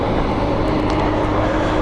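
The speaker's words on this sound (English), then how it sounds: "forgive me there for that little throttle blip" A motorcycle engine gets a quick throttle blip on a ride, a loud, close, steady engine roar that fills the whole moment.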